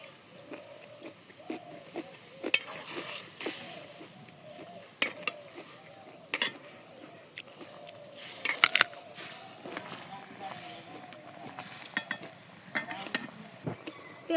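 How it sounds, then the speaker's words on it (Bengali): Fish heads fry with salt and chili in a pan, giving a steady sizzle with frequent clanks and scrapes of stirring over a village cooking setting. "নুন মরিচ দিয়ে কষে নিই। মাথা দিয়ে কষিয়ে নিই।"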